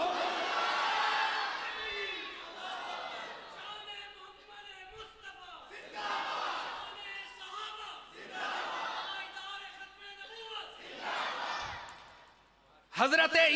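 A crowd at a Khatm-e-Nabuwat religious conference in Bhawana, Chiniot, answers with the takbir slogan in several loud, swelling waves of massed voices, one after another, with no speech in between.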